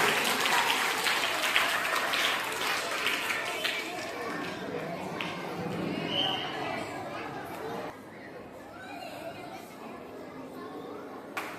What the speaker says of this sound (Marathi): जोरदार टाळ्या वाजवायच्या सगळ्यांनी.